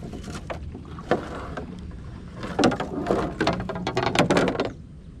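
A fishing boat on the water gives off intermittent knocks, splashes and creaks as it moves, with wind gusting across the microphone, moderately close, no voices heard.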